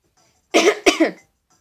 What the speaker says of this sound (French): Désolée, je tousse tout le temps